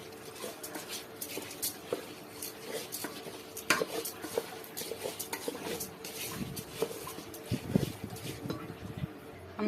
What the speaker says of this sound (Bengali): আমি যে মাংসটা ভুনা করে নিয়েছি সেটা আমি এখন চাউলের সাথে মিশিয়ে দিলাম